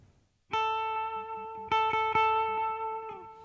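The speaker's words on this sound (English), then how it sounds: "they're using chorus effect and delay effect" Electric guitar played through chorus and delay effects, ringing bright sustained notes and chords in a few separate strikes, each followed by shimmering repeats that trail off, heard alone without voices.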